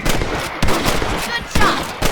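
Rifle shots in the Red Dead Redemption game while hunting rabbits: sharp, loud bursts at regular intervals over a busy game soundscape.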